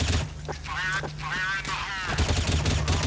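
Bursts of rapid gunfire in a competitive shooter video game match, sharp cracks and volleys layered under an excited commentator talking continuously.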